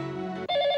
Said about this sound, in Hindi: फोन देखो किसका है।